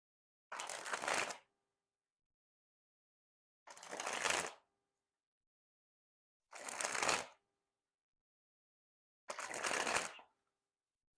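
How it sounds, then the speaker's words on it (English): Plum Blossom Tally Ho playing cards sprung from hand to hand, four separate quick fluttering riffles, each about a second long with silence between, close and crisp. "time to test the handling. And first we'll start with the springs."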